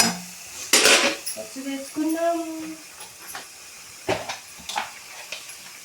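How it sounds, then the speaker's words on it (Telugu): A spoon stirs mutton curry with turmeric in a pot, giving a few sharp metallic clanks and scrapes against the pot, up close, with a voice talking briefly in between. "ఒకసారి కలుపుకుందాం ఇప్పుడు పసుపు వేసుకున్నాం"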